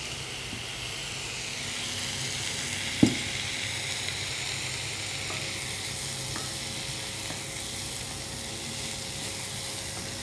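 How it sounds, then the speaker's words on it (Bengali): Raw cut potatoes sizzle in a hot pan for chicken keema rezala. A steady, loud frying hiss carries throughout, broken by one brief clack of utensil on pan. "এটাতে আমি এখন আলু দিচ্ছি।"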